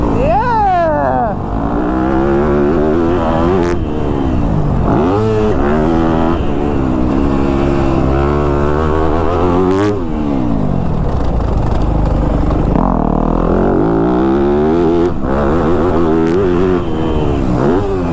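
A Yamaha YZ250F dirt bike races around a motocross track, its engine revving loud and continuously through rising and falling gear changes, close to the rider throughout.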